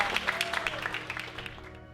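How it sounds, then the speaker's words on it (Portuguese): Applause from a church congregation, a fairly quiet patter of many hands clapping in brisk, uneven bursts that fade toward the end. "Dê uma salva de palmas e pode sentar."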